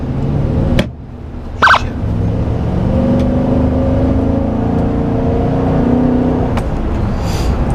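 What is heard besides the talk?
Nissan Titan truck factory exhaust revving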